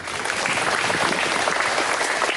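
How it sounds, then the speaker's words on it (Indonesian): Steady, dense applause from a large crowd at a new-student welcome ceremony at Unitri university, a continuous wash of clapping with no talk over it. "Tepuk tangannya."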